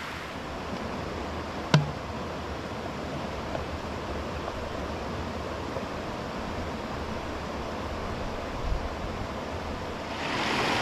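Small waterfall and creek flowing into a shaded cove along a forest hiking loop, a steady broadband rush of water that stays even and continuous throughout, with one brief knock near the start.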